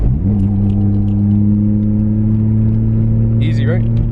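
A manual car's mid-range engine holds a steady drone after a quick rise in revs from a gear change, running loud and close with a faint rattle over it.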